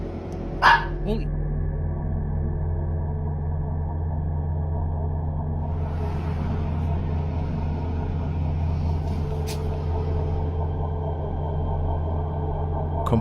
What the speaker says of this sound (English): My dog just started barking for no reason